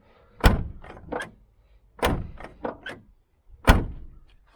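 Door of a 1978 Chevrolet Nova V8 hot rod being opened and shut three times, each a sharp close slam followed by latch clunks and rattles, loud and near with quiet gaps between.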